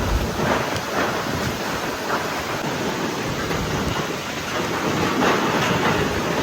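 Heavy rain and rumbling thunder during a ferry trip, a dense, constant roar of downpour with low rumbles underneath, loud and unbroken.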